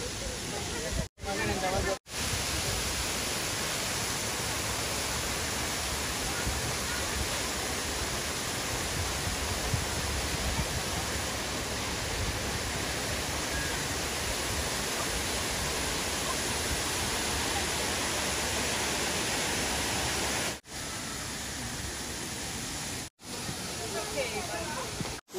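Steady broadband rush of a waterfall in Norheimsund, Norway, nearby and loud, filling the whole stretch with continuous roar, with a few brief dropouts near the start and end.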